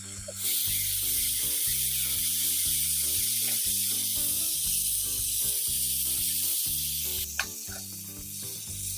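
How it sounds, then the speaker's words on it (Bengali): Drumstick flowers cooking in a pan, a loud steady hiss of sizzling that runs nearly the whole time and dies down at the end, with a rhythmic musical backing underneath and no talk. "এখন একটু ঢাকনাটা খুলে নাড়াচাড়া করে দেবো"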